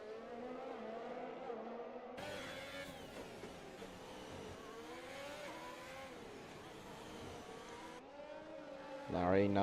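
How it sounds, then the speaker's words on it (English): An Aston Martin racing car in F1 2021 at Baku holds a steady high engine whine that shifts pitch through gear changes, with a voice talking over it. "Larry now just wanting to push the Aston Martin through every corner"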